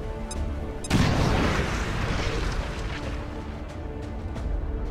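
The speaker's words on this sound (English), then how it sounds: "That should hit all three of them. Boom! That's my last incendiary grenade" An incendiary grenade goes off in XCOM 2 with a sudden loud boom that swells into a sustained fiery roar and crackle, lingering for several seconds without fading away.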